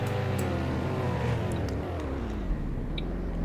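A car engine in a tornado survival video game drones steadily and loud, its pitch shifting and sliding as the vehicle drives, with small clicks on top.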